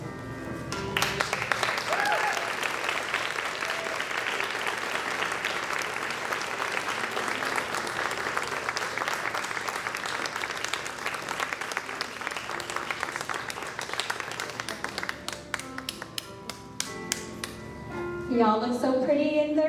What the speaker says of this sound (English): Keep cheering for them, they did so well.